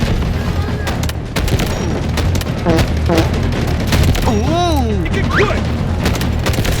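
Booming .357 revolver shots in the shooter game Delta Force, a few heavy reports with mechanical clatter amid dense ongoing combat noise and continuous background din; a voice is heard briefly.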